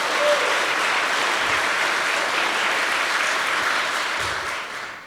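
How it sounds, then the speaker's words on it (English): Dense, sustained applause from an audience at an annual meeting, a full wash of many hands clapping at even loudness before tapering off at the end. "Let's give them a round of applause"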